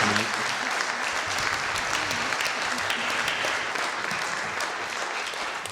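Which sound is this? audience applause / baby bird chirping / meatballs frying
audience applause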